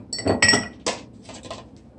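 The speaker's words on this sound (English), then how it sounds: "I'm going to add a piece of ice in this." Ice cubes clink against a glass of sorrel drink in a few sharp, bright knocks, close by and otherwise quiet.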